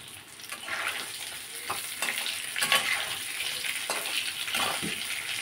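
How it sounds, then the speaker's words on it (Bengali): Potatoes fry in oil in a pan, a close, steady sizzle broken by several scraping strokes as they are stirred, with no one talking. "আলুগুলো মোটামুটি একটু ভাজা হয়েছে"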